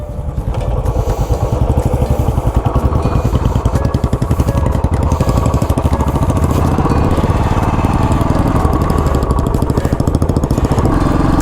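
A Royal Enfield Bullet 500 motorcycle engine runs continuously with a loud, close, rhythmic thumping pulse and a mechanical clatter. The sound holds steady throughout, with no talking.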